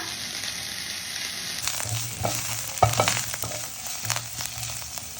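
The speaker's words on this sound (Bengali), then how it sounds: "এখন বাগার দেওয়ার সময় দিয়ে দিচ্ছি পেঁয়াজ কুচি ওই যে তেলে" Chopped onion dropped into hot oil for tempering a smoky roasted-eggplant mash on a gas stove, giving a steady close sizzle with sharp crackles and occasional stirring clatter, no voices.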